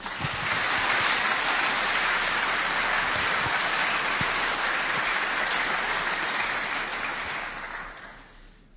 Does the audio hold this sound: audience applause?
yes